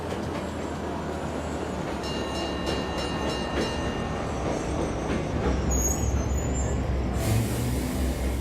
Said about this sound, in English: And there's the train!